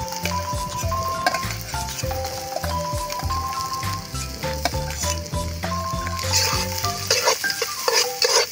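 Onion and pork heart sauté in hot oil, a continuous sizzle with occasional stirring scrapes, largely covered by prominent background music.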